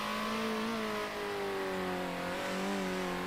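A race car engine in Circuit Superstars drones at half throttle, a steady tonal whine whose pitch sags slightly and then wavers, continuous and alone.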